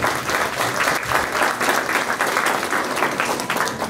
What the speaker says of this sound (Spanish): pido fuerte voto de aplauso